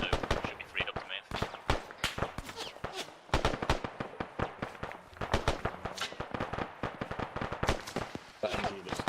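Machine gun fire in a military video game, rapid cracking bursts of shots in uneven rhythm, close and loud, with short gaps between volleys and voices talking over it.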